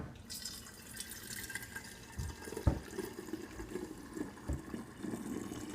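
Homemade kombucha is poured into a container, a soft continuous trickle and splash of liquid with occasional drips and knocks, fairly quiet and close, without speech.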